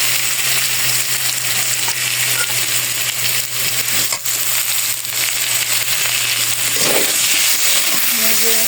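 Spices with turmeric and chili powder frying in a pan, giving a steady close sizzle with scattered clinks and stirring scrapes and a low hum underneath.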